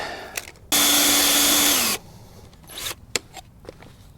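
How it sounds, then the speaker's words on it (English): A loud, continuous drill whine as a masonry bit bores into plastic for about a second, stopping abruptly, followed by quieter scraping and a few sharp clicks. "This is actually a masonry bit, but I am drilling into plastic, so it should be quite soft."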